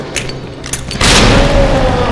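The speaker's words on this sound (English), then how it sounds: "I think the grenade should be enough to kill him." A grenade blows up in the Resident Evil 2 remake, a loud, sudden boom after a few small thumps, its heavy rumble filling the rest of the moment at close range with no talk over it.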